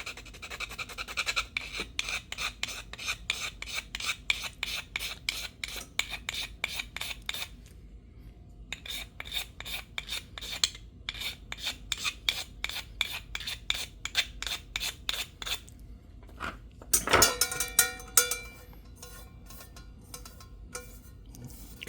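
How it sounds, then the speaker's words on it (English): A knife scrapes a magnesium bar from a campfire kit in rapid, regular rasping strokes, close and crisp, pausing briefly before resuming with a heavier flurry of scrapes. "You can see we're scraping that bar off."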